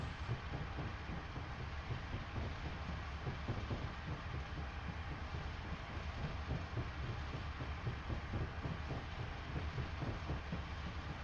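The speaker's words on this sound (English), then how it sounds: "Now, you notice there's a sound of a train going by or something again." A train passes in the Western Lines of Scotland rail simulator game, heard as a faint, steady rumble with soft rhythmic clatter throughout.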